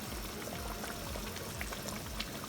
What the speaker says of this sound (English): let this simmer only for 5 minutes